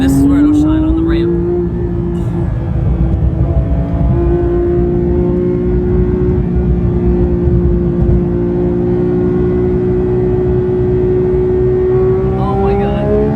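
Porsche 911 GT3 engine while driving, a loud steady drone with a sustained engine tone that holds nearly level and climbs slightly near the end, heard from inside the car.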